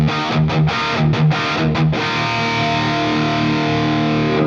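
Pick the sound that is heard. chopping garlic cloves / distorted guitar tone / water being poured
distorted guitar tone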